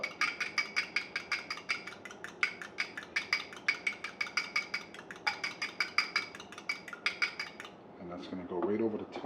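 A fork beats one egg with about a tablespoon of water in a bowl for an egg wash, giving rapid rhythmic metallic clinks that run steadily and close, then stop near the end as other sounds take over.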